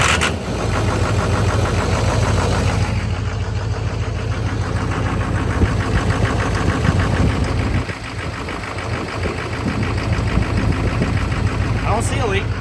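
A Duramax diesel truck engine cranks and runs at a loud, steady rumble throughout, close by, with a brief dip midway before the clatter resumes; no one speaks.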